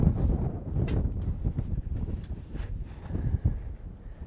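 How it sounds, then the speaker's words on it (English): Strong wind buffets the microphone at an outdoor long-range shooting range, a loud, rough low roar that gusts and surges without pause. "Wind is still screaming."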